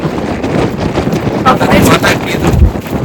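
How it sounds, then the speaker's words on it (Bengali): Strong cold wind at a beach in Edinburgh buffets the microphone in a steady low roar, rising into sharper gusts partway through. "এখানে সি বিচ বলে মনে হয় আরো বেশি ভীষণ ঠান্ডা হাওয়া দিচ্ছে।"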